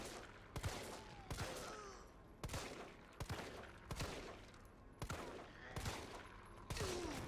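Gunfire in the Resident Evil 4 remake, a series of about eight loud separate shots spaced roughly a second apart over a low game background.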